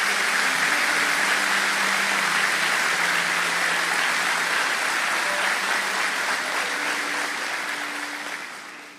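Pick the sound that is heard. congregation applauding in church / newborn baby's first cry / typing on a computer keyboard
congregation applauding in church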